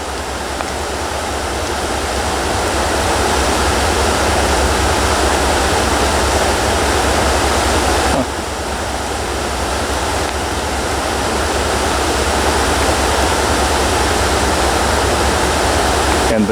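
A river flows steadily with a dense, unbroken rush of water that stays loud and even throughout, with no clear voices over it.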